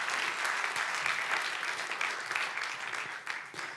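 Sustained audience applause after a group's first presentation at the close of a partnership programme round, dense steady clapping from a crowd filling the room, holding level before tapering slightly near the end.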